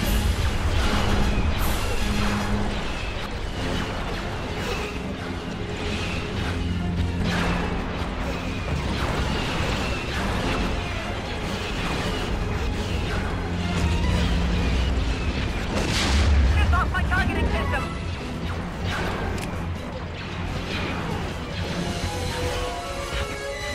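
Starship weapons fire and explosions in Star Wars Empire at War during a space battle. A continuous dense wash of laser shots, booms and rumbling runs throughout at a steady loud level, with faint radio voices mixed in.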